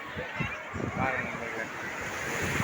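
Sea waves at Rameswaram wash in as a broad, rushing surf mixed with wind buffeting the microphone, steady and fairly close, with voices talking over it.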